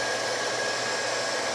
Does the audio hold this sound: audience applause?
no